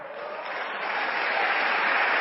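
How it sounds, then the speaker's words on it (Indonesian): Loud applause from a seminar audience, a dense, steady clapping that swells slightly toward the end, with no speech over it. "yang tepuk tangannya keras"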